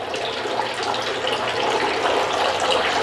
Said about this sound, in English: Just a nice, quiet waterfall.